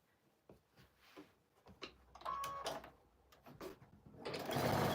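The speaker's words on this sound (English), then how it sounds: "now I'm going to sew from this top down here so things do not become wonky" A sewing machine stitches a quilt block, starting with scattered clicks and short bursts, then running steadily louder and closer toward the end with a mechanical whir.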